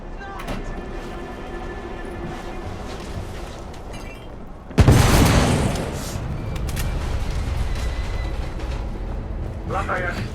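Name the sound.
explosion in The Order: 1886 video game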